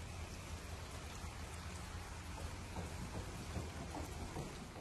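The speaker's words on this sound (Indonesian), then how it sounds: "Lumayan hujannya, basah juga." Steady spring rain falls at a temple in Chongqing, China, an even hiss with soft patters on surfaces and no talk.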